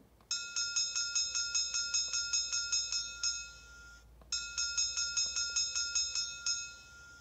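A Märklin H0 model steam locomotive's bell clangs brightly in a steady, quick rhythm, pauses briefly, then resumes ringing at the same pace; clear and fairly close with a faint background hum.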